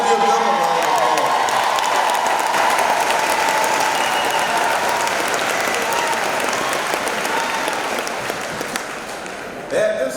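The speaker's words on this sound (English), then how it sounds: "Let's give them a round of applause." Loud, sustained applause from a large crowd honoring school support staff at a teachers' welcome event, thick continuous clapping with light cheering that tapers toward the end.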